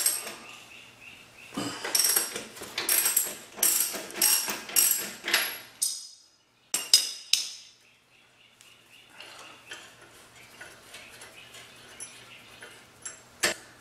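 A socket ratchet clicks in bursts of rapid pawl ticks while a 22mm socket loosens the rear axle nut on a chain-drive Honda Shadow VT750 ACE, close up, then pauses and gives a few quieter clicks.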